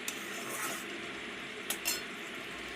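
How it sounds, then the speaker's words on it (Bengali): Spice paste stirred and fried in a karahi wok for aloo dum, giving a steady broadband sizzle with a few sharp metal clinks of the spatula against the pan. "মশলাটাকে ভালো করে কষিয়ে নিচ্ছি কড়াইয়ে"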